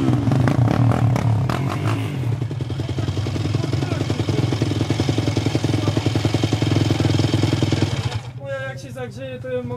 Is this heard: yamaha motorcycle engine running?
yes